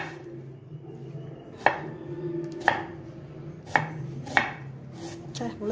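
A knife chops food on a board in a home kitchen, while chana masala and a sandwich are made: four sharp, sparse thuds spaced about a second apart, close and fairly quiet, with no talk.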